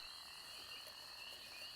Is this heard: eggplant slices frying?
no